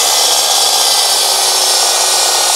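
A power saw cuts wooden beams to size for a homemade climbing frame, a loud, continuous bright whine with no pauses.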